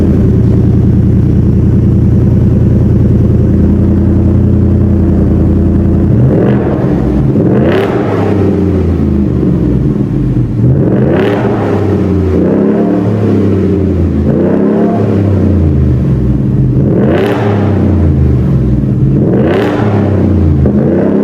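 A supercharged 705 hp 2025 Ford Roush F-150 with a Roush catback exhaust idles close by with a loud, steady note, then revs hard several times, each rise climbing into a screaming whine and falling back.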